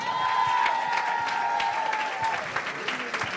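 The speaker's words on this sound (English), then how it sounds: "Give another round of applause to all of our participants today" An audience applauds the performers at a Diwali program at a Hindu temple, a steady wash of dense clapping that holds for several seconds and fades slightly at the end, with a voice and a held tone underneath.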